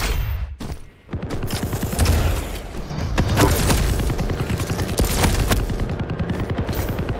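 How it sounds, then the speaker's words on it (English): Sustained rapid fire from the starting machine gun in a Quake duel, a dense loud stream of shots with booming impacts and a brief gap early on, with no voices. "Vex trying to deal as much damage as he can with the starting machine gun"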